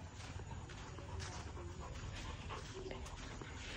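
A Labrador dog on a farm kennel pants steadily and close by, with faint outdoor background noise and occasional soft movement sounds.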